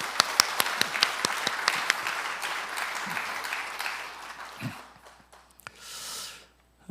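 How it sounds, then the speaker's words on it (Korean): Applause from an audience at a ceremony celebrating a farming legacy, a steady wash of clapping that fades toward the end, with a few sharp claps and breaths standing out. "이분들한테 박수 한번 보내주시죠."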